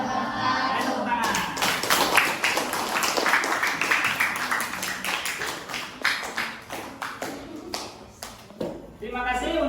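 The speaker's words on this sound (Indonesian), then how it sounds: "Tepuk tangan." A classroom of students claps after a presentation, a dense burst of applause that thins into scattered individual claps, with voices mixed in.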